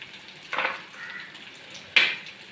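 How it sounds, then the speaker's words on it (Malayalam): Sliced onion goes into hot oil in a pan with a soft sizzle and frying hiss, two brief bursts of louder crackle as it is stirred, close and quiet. "ഇനി നമുക്ക് ഈ ഉള്ളിയും കൂടെ ഇട്ട് കൊടുക്കാം."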